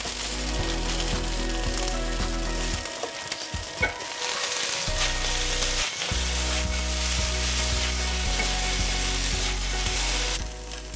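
Cauliflower gnocchi sizzle and fry steadily in a pan while pieces are flipped, a near, continuous crackle with a brief quieter gap in the middle as they are turned.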